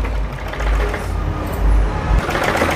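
A sewing machine stitching a lining piece onto garment fabric runs loud and close in a steady mechanical whir, surging in speed a few times before briefly easing off.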